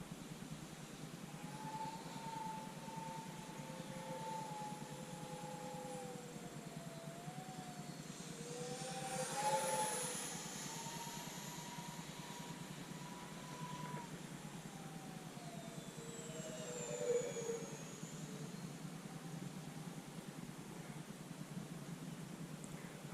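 A twin 40mm EDF radio-controlled Su-57 Felon model jet flying, a thin, faint whine from the ducted fans rising and falling in pitch as it passes, swelling briefly twice, heard from a distance with no talking.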